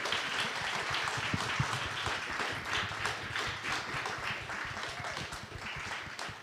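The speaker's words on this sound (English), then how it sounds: "Can we give a round of applause to our panelists?" A seated audience gives a steady round of applause for a panel, continuous mid-distance clapping at moderate level throughout with no voices on top.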